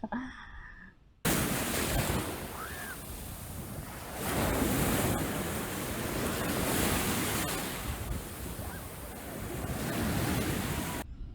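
Sea waves surge and wash in a steady roar with gusty wind noise on the microphone, swelling and easing, after a brief quieter start.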